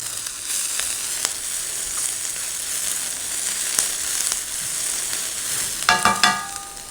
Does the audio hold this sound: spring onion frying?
yes